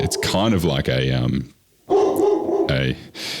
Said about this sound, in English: I've got the dog barking.